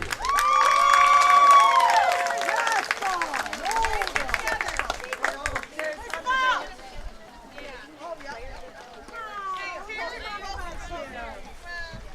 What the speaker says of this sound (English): Can we have a round of applause for all of our senior players?